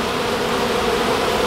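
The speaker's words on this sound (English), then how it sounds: "there's a lot of bees on the back side though" A dense swarm of honeybees drones steadily around a beehive being rescued from ants and termites, a close, continuous buzz holding at an even level throughout.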